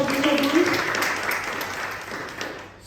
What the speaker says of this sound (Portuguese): Can you clap your hands to Jesus?